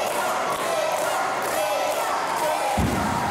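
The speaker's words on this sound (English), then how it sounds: "listen to the crowd" A crowd roars steadily at a live wrestling fight event, a dense continuous wash of cheering and shouting with a heavy thud near the end, loud and sustained.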